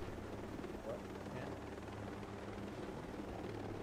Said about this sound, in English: I can't hear you over the helicopter.